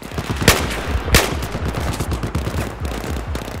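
Automatic rifle fire in Battlefield 4's Kunlun Mountains campaign level, rapid bursts of sharp shots with two louder, heavier reports standing out, continuous and close.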